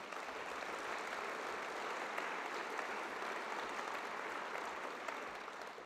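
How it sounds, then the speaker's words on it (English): A large convocation crowd at Cal Poly applauds steadily, a thick, even roar of clapping from many hands that carries without pause for the whole stretch and tapers slightly at the end. "Give yourselves a round of applause."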